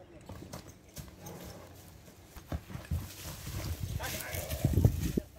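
Young horses at a Kyrgyz horse-breeding showing are led along, hooves clip-clopping in an irregular rhythm that grows louder and nearer, mixed with outdoor background noise and some voices.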